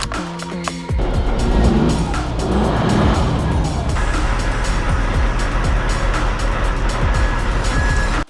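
A Scania V8 truck engine rumbles loudly and steadily after starting, a deep continuous roar with no talking over it.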